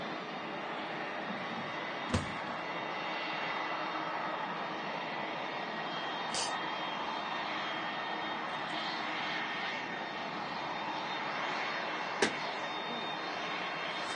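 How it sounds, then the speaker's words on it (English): A Pilatus PC-24 business jet taxis at Manchester Airport, its engine hum steady and moderately distant throughout, with a few sharp clicks or knocks breaking through and no talk. "Pilatus PC24 on the taxi in here"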